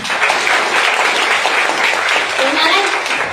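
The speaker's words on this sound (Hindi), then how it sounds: "आपको इसके लिए ताली बजाना चाहिए" A training-session audience in Raigarh, Chhattisgarh gives dense, loud, sustained applause that fills the whole stretch evenly, with a murmur of voices mixed in.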